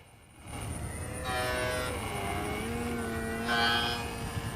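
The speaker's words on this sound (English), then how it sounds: "when I got back on the gas after coming on the runway, you could hear that there was something bad wrong with this motor." Strained, uneven motor drone from a Flex Innovations Cessna RC plane with a faulty motor, airborne near a runway, holding a steady tone that wavers and swells briefly with no talking.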